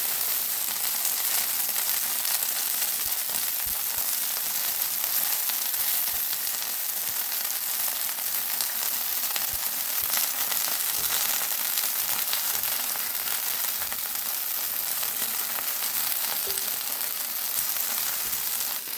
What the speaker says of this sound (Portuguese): fritar em fogo médio até dourar. E agora é só virar de lado e dourar o outro lado